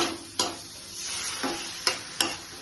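Capsicum frying in a pan sizzles steadily up close while a few sharp clinks and scrapes of a spoon against the pan break in at intervals, with the hiss swelling as a little water goes in.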